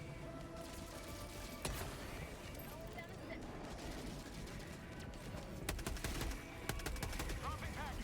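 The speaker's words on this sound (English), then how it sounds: "Throwing grenade." A grenade thrown and exploding in a Helldivers-style video game, dense dull blasts and rattling gunfire bursts under a constant rumbling battle din, with sharper impacts near the end.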